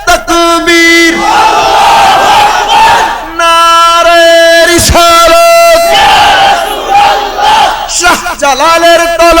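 A large crowd at a Sunni religious mass gathering shouts the takbir chant in loud, sustained unison calls, repeated in waves with brief gaps between the shouts.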